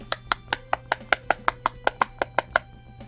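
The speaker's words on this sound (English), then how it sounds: "Yes, like I love the popping ones. That noise is so satisfying." A popping fidget toy is pressed bubble by bubble in a quick, even series of about fourteen crisp, close pops, each sharp and clean against a quiet background.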